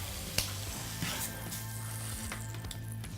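A pork chop sears in a hot pan, giving a steady, close sizzle with a few soft scrapes and taps, and no talking.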